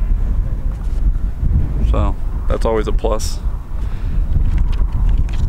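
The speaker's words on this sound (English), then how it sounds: "Wind is super windy." Strong wind buffets the microphone in a constant low roar, with a person briefly speaking partway through.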